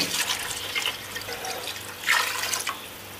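About 1.5 litres of water poured into a pot of fried egg gravy for egg biryani, a steady splashing rush with brief louder gushes, close by and with no voices.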